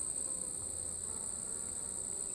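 Honey bees swarm around an opened hive, making a steady, continuous buzz with a thin high whine layered over a low hum. The sound stays even and unbroken throughout, with no voices.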